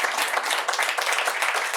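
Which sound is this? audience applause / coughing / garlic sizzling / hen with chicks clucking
audience applause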